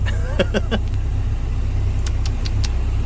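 A Caterpillar CAT320GX excavator engine runs steadily at a low, constant rumble on a test drive. A few short clicks and knocks sit on top, with no talk.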